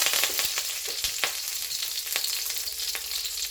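Mustard seeds and curry leaves frying in hot coconut oil for beans thoran, a dense close crackle with sharp pops and spits scattered throughout, no voices.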